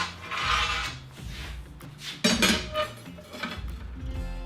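A manual rebar bender levers a steel rebar into a bend in a garage, giving close metallic clanks, scrapes and ratcheting clicks in uneven bursts, with a sharp knock partway through.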